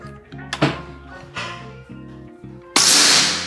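A sharp single shot from a Big Game air rifle cracks near the end, after a few soft thuds and clicks; close and loud, no talking.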